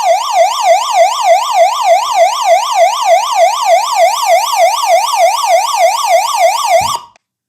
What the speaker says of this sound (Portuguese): Ok, função SOS também funcionando perfeitamente